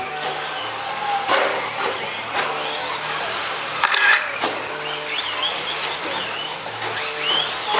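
Stadium race trucks in a mod main event tear around a raceway, their motors whining steadily with repeated surges and passes close by, with no one talking.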